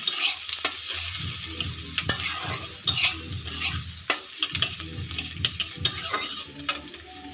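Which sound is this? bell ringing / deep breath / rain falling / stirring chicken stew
stirring chicken stew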